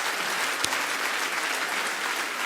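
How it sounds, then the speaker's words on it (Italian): Audience applause for the accompanist Claudio at a solidarity choir concert in Tonara, Sardinia, a dense steady wash of many hands clapping, fairly loud and unbroken throughout. "un applauso personale per te questa volta"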